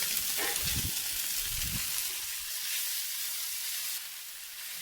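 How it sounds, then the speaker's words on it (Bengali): Sago pearls sizzle gently in a pan over a medium flame as they are stirred, giving a steady close hiss with a few soft scraping stirs early on. "সাবুটা দেওয়ার পর একটু নাড়াচাড়া করে নেব।"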